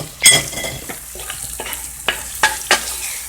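Sliced apples frying in a hot pan, with a steady sizzle and several sharp scrapes and knocks of a spoon stirring against the pan, close up and with no talking.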